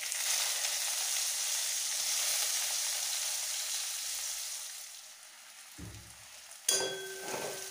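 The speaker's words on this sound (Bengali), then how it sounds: "পেঁয়াজ আদা রসুনটা 1 মিনিট একটু ভেজে নিয়েছি" Chopped onion, ginger, garlic and green chili with cumin seeds sizzle steadily in hot oil, a dense continuous frying hiss that dips briefly before a louder burst of sizzling crackle near the end.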